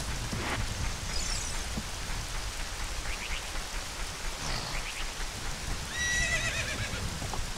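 In the Zelda game Ocarina of Time, a horse neighs and whinnies several times over a steady hiss of rain, with faint hoof clip-clops beneath and no talking.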